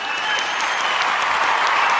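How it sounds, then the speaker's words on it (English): Steady applause from an audience at a public school board meeting in Dearborn, Michigan, dense continuous clapping filling the whole moment at close range with no speech over it. "Let me clap too"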